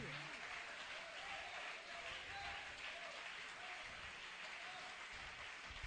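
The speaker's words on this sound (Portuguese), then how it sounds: "Pode aplaudir o Senhor, separado, santo, exclusivo de Deus." A church congregation at a Portuguese-language sermon applauds in a steady, sustained wash of clapping that stays even throughout, faint and distant-sounding.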